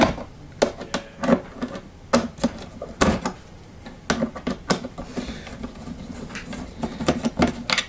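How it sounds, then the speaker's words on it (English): Screwdriver turning out screws on a Vax Zen Powerhead vacuum head during repair, heard as close, repeated sharp clicks and ratcheting taps in an irregular rhythm. "So now, we can remove the two screws at the back."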